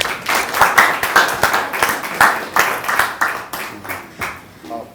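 An audience at a university courtesy visit claps for a professor in a lively, fairly close round of applause with rhythmic clap bursts, fading slightly near the end.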